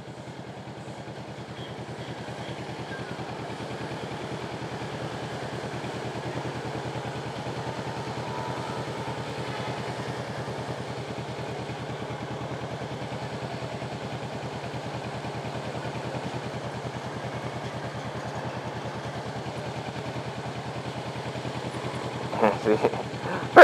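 Low, steady motorcycle engine rumble as a motorbike rides through a shopping mall, a continuous moderate drone with a few clattering knocks near the end.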